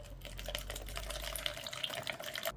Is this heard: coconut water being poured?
yes